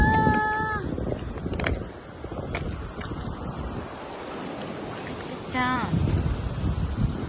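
Wind buffets the microphone on Diveagar beach on the Konkan coast, where surf washes steadily in the background while people talk nearby and a few brief calls rise above the roar.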